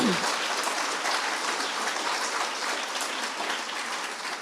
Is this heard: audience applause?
yes